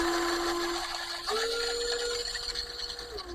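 Small electric motor of a 1/12-scale Ford Raptor F150 RC truck (HSTAR/MN128) whining at high speed, a steady tonal hum that rises in pitch partway through and holds, close and continuous.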